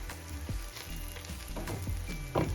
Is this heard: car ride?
no